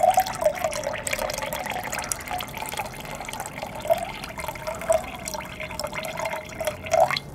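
Copper-contaminated gold solution, recovered from computer chips, is poured and filtered into water, giving a continuous close trickling and gurgling stream with small splashy drips throughout, with no talking.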